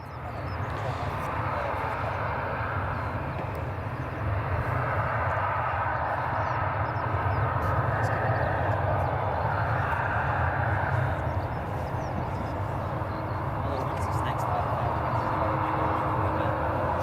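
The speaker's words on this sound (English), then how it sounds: "Turkish Airlines A321neo is on the approach now as well" Turkish Airlines A321neo on approach to runway 24 at Edinburgh Airport, a steady broad jet roar held at an even level throughout, with a constant low rumble beneath and faint background noise.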